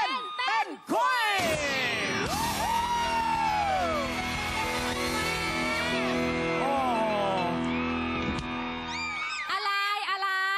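Studio audience at a Thai afternoon variety show shrieks and cheers for a male singer, a sustained wall of high screams and whoops rising and falling over roughly ten seconds, loud and close.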